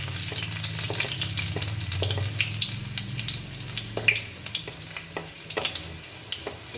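Chopped garlic sizzling in hot oil as a tempering for red lentil dal with bottle gourd, a steady frying crackle with scattered clinks and scrapes of stirring, a brief louder pop midway.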